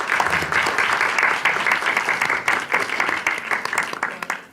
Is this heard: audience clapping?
yes